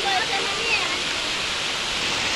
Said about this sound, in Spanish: Bueno, amigos, ya nos agarró el agua. Ay, sí, nos mojamos y Elisa se mojó también